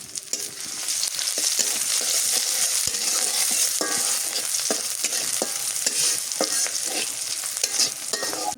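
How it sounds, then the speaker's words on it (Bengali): Garlic and green chilies fry in oil in a pan with a bright, steady, close sizzle, while frequent spatula scrapes and taps keep stirring throughout. "রসুন আর মরিচ ভাজা হয়েছে"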